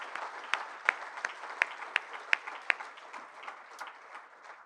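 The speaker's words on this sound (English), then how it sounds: "we need to give Mike David a tremendous round of applause for that" Scattered, fairly faint applause from an audience at a 2021 PGA Hall of Fame induction, honoring Mike David: a handful of distinct claps stand out over a soft wash of clapping that thins toward the end.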